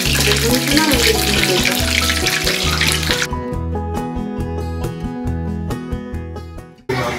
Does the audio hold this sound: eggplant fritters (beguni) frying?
yes